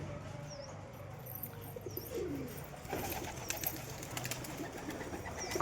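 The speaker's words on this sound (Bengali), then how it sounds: "আর একটা পায়রা কিন্তু উপরে উঠছে" Pigeons coo softly at a distance during a pigeon training session, with faint chirps and a burst of wing flapping as birds take off and land, the sound rising slightly midway before a loud final flutter.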